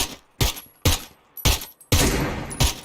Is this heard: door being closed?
no